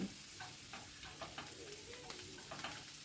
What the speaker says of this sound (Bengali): ডিমটা এপিট ওপিট করে সুন্দর করে ভাজা হয়ে গেছে।